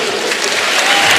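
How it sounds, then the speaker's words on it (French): Crowd at a French savate championship final applauds a former European champion and coach, loud sustained clapping filling the hall from start to finish. "Je vous demande de l'applaudir."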